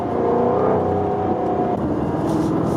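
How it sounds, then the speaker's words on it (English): A powerful 2020 Jaguar F-Type R sports car engine drones and revs up close, its deep exhaust burble steady, with a brief dip partway through. "every time I shift, you hear that nice burble and strong shift between gears"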